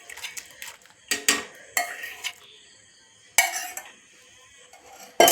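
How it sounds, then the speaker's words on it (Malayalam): A spoon scrapes and clinks against a pot while pineapple payasam is stirred, in several short, separate bursts of metallic scraping with quiet pauses between them. "എന്നിട്ട് കൈ വെക്കാതെ ഇങ്ങനെ ഇളക്കണേ, അടിയിൽ പിടിച്ചു പോകും."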